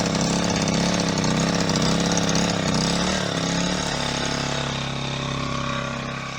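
An Alp 1000 propane generator idles close by, a loud, steady engine drone with a constant low hum that eases slightly in level toward the end, with no voices.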